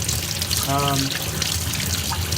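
Water runs steadily from a tap, splashing over an aquarium vacuum filter pad being rinsed, with a brief voice-like tone in the middle.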